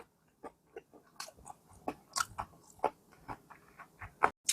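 Gimbap eaten together with spicy food, close crisp bites and wet chewing in an irregular rhythm of distinct crunchy bursts, rather quiet with no talking.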